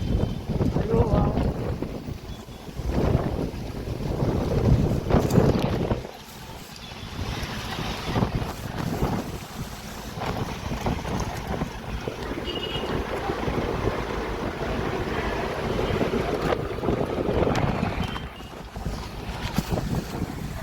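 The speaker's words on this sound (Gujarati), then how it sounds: "ભાઈ અહીંયા આવ્યું છે વાવાઝોડું." Strong gusty storm wind at night roars and buffets the microphone throughout, a constant rushing blast that rises and falls without pause.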